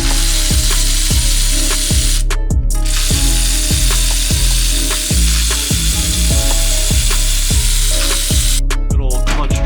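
An electric ratchet whirs and rattles in loud, repeated bursts while driving bolts during work on a V8-swapped Ram 50, each burst ending with a clunk as the bolt seats.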